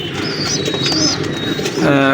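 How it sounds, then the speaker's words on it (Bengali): Pigeons of the Kamagar breed coo in a repeated, rolling call, close and fairly loud over a steady indoor background, with a brief sharper note near the end. "দেখুন ভিউয়ার্স, কবুতরগুলো একদম নতুন কবুতর, নিউ রানিং কবুতর।"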